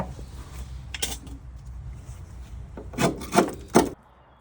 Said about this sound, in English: Trying to take some treacle out from under the wheel arch to get at some fittings.